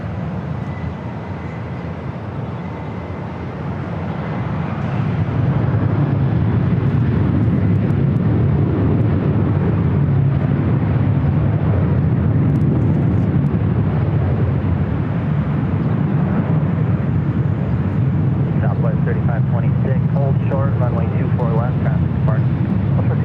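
An airliner takes off from runway 24 left at LAX. Its distant engine rumble swells after a few seconds into a sustained roar, while air traffic control radio voices talk over it.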